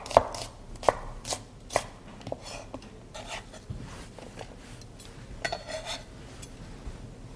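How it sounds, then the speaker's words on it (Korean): An onion, outer layers separated from the core, julienned with a knife on a cutting board for mirepoix, giving a run of crisp, close chopping knocks at an uneven pace, some sharper than others, with faint clinks of utensils and no talk. "양파는 겉껍질과 속을 분리해서 적당한 사이즈로 채를 썰어 주시고요"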